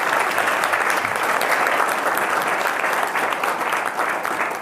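A school audience at a Constitution Day general knowledge quiz claps loudly for the first-place team, dense sustained applause from many hands filling the room throughout, starting to taper off at the end.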